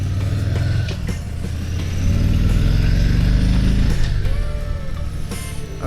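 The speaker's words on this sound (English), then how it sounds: "first impression, it has a little bit of a roar to it, which I like." A 2021 Harley-Davidson Heritage Classic motorcycle engine roaring loud and close, a deep continuous rumble that swells as it revs and then settles, with mechanical clatter on top.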